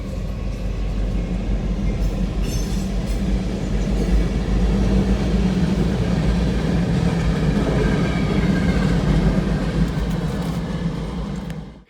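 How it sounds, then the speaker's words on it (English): Two Norfolk Southern GP60 diesel locomotives pass close by on the Chicago line, a loud, continuous engine roar with rumbling wheels and faint rail clatter that holds steady before cutting off at the end. "These two GP60s are the only standard cabs that regularly traverse this section of the Chicago line"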